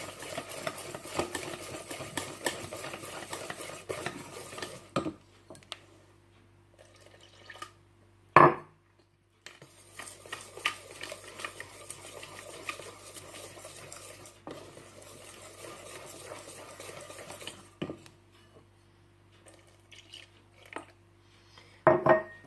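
Crêpe batter whisked vigorously in a bowl as milk is poured in little by little, a brisk rhythmic scraping that pauses around the middle with a few sharp clinks, then resumes.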